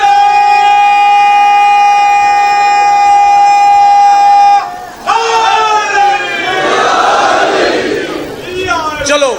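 A long sustained horn-like tone holds steady, then a large crowd at a Shia majlis gathering at a shrine roars out a chanted slogan in unison, loud and close, swelling and fading with a voice over it.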